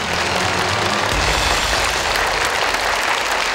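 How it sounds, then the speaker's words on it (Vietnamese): Studio audience at a Vietnamese word-guessing TV game show breaks into sustained, dense applause, loud and even from start to finish with no talk over it. "Thưa quý vị, chúng ta cùng dành một tràng vỗ tay để bắt đầu đuổi hình bắt chữ"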